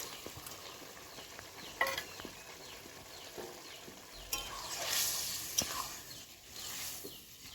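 Crabs drop into a boiling spicy gravy for kakra jhal, with scattered clicks and splashes giving way to a broad, rising sizzle and bubbling hiss that swells and fades, with no talk.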